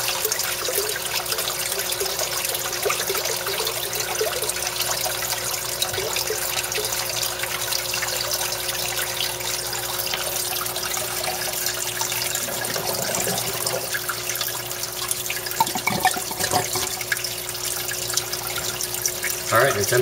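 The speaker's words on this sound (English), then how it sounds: "There's one of the u-siphon drains that's emptying right now." Water drains from a u-siphon in a barrel aquaponics system, making a steady, close rushing and trickling that continues without a break, with slight surges near the end.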